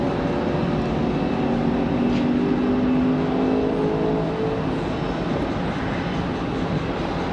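An airliner departing Raleigh-Durham airport roars with a steady, loud broadband rumble and a faint rising whine, continuous for several seconds with no voices.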